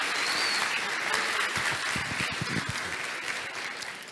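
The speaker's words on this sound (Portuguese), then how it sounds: "Dá uma salva de palmas aí pro Luan, gente." A crowd applauds steadily for a few seconds, a dense wash of many hands clapping at even loudness.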